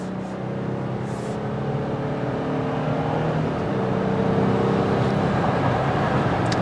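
A Jeep Gladiator Mojave pulls away under steady acceleration, its engine drone building gradually and continuously beneath road and tyre noise, with no talking.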